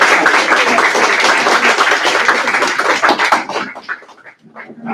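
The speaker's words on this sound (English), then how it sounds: "Round of applause for our new assistant disabled student." Students at a meeting clap loudly and close by for a newly elected representative, a dense burst of applause that thins out toward the end into a few scattered claps and faint murmurs.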